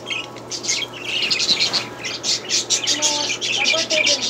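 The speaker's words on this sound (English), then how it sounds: "The parrot, the birds." Parrots and other birds at a pet expo chirp and tweet in a busy, continuous chorus, loud and close, with overlapping calls throughout.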